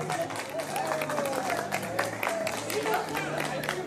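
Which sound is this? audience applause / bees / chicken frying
audience applause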